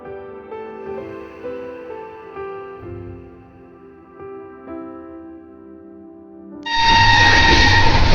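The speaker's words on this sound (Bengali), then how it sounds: "ট্রেন ছুটে চলল অবিরাম গতিতে" Running rumble of the Shatabdi Express heard from inside its vistadome coach, a steady low rattle and hum that swells into a loud, broadband roar near the end.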